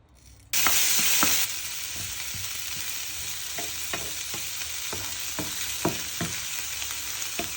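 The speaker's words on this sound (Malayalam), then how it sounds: "കുറച്ച് കടുകാണ് ഇടുന്നത്." Mustard seeds dropped into hot oil with green chillies and turmeric for a long beans stir fry, a sudden loud sizzle burst settling into steady frying hiss with scattered sharp pops, close and without talk.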